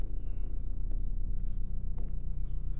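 Pen writing the closing line of a geometry proof on paper, faint scratchy strokes sitting under a steady low-pitched hum in a quiet room.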